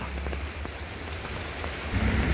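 Rain falls in a garden with blooming bougainvillea, a continuous soft hiss with a faint low rumble building near the end and a brief high chirp early on, no voices present.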